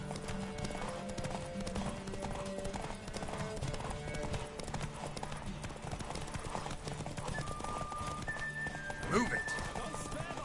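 A horse gallops in The Witcher 3 video game, quick rhythmic hoofbeats running continuously under game music, with a short whinny near the end and voices talking.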